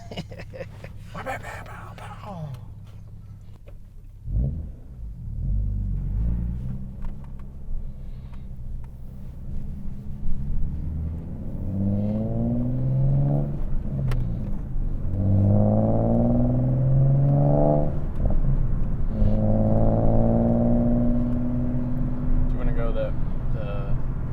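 A Nissan 370Z NISMO with a Fast Intentions exhaust idles, then revs up to its factory limit with a loud, deep, rising drone that holds and swells in repeated pulls, while people talk nearby.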